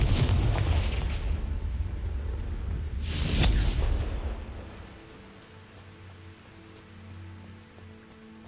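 Confringo spell blasts in Hogwarts Legacy go off as two loud crackling explosions with booming low rumble, the second near the middle, fading into a quieter ambient hum afterward.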